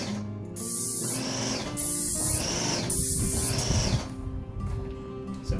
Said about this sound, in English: The noise you hear is that thing keeps repressurizing as it discharges the paint.